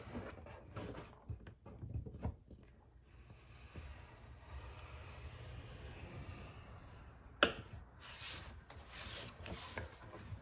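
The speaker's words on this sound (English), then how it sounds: "We're gonna score it at 1 inch." A paper box blank being scored gives quiet, intermittent scraping and rubbing strokes, faint and close, with one sharp click partway through and no voices.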